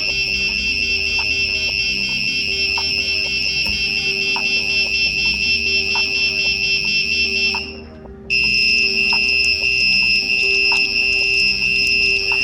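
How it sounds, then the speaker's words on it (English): A loud, shrill Arduino-driven active buzzer drones steadily, cuts out briefly, then resumes at a slightly different pitch and keeps sounding. "You can get any sort of sound out of that buzzer."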